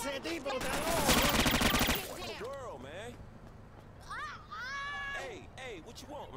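Gunfire bursts from the video game Scarface: The World Is Yours, a dense loud rapid volley in the first two seconds, followed by shouting voices over game background sound.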